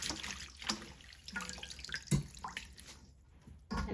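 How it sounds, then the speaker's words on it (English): Leeks are rinsed and shaken in a bowl of water, giving soft sloshing, splashes and drips in short bursts, fairly close and quiet. "give it a good rinse"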